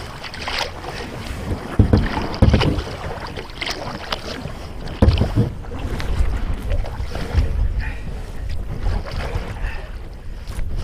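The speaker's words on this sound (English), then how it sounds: "Oh, wind's blowing me on." Strong wind buffets the microphone on open water during a kayak trip, a loud, gusting roar with occasional bumps and splashes and no speech.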